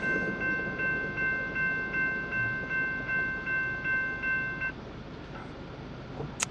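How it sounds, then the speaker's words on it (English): A freight train of empty log cars rolls past near Williams at a steady distance, wheels clacking rhythmically, with a sustained high warning tone from a crossing bell that cuts out near the end. "There's the train for the Grand Canyon."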